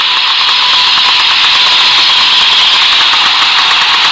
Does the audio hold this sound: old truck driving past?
yes